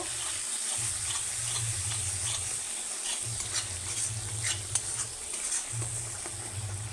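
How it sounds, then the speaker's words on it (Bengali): Spices with Kashmiri chili powder and turmeric frying in oil while being stirred, a steady close sizzle with repeated scraping strokes and a low rhythmic rumble underneath, no voices. "এটাকে অল্প ভেজে নেব।"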